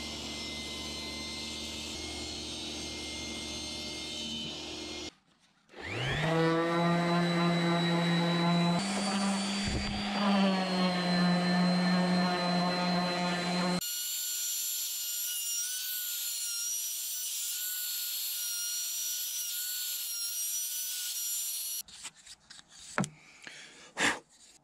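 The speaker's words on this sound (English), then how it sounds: "I'm gonna take the piece over to the table saw. I'm gonna clean up both edges, get it nice and square, hit the edges with my router" Wood for an Xbox controller stand cut on a table saw and edged with a router: a loud, whining motor drone rises and shifts pitch, then gives way to a harsh, high hiss of cutting before clattering stops at the end.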